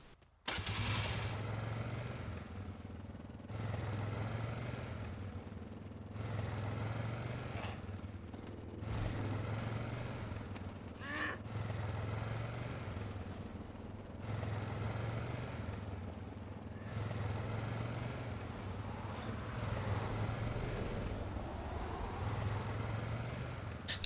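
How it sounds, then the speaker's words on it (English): A motorbike engine in the video game DayZ starts and then runs with a steady, pulsing mid-range drone as the bike is ridden, holding a fairly even level throughout. "fortunately, there's a bike here, a motorbike, and I jump on it"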